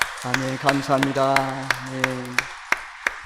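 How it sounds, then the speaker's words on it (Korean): Congregation at a Sunday church worship service clapping in a steady, evenly spaced beat while a voice speaks over the claps. "우리 귀한 찬양을 박수로 하나님께 영광을 돌리겠습니다"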